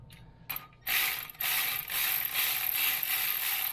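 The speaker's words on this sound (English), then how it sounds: "I'm gonna try to get this big bolt just in started." Ratcheting wrench clicks as a large bolt is started on the AC compressor of a 2014 Honda Odyssey, a near, steady run of rapid mechanical clicks following a couple of brief opening clanks.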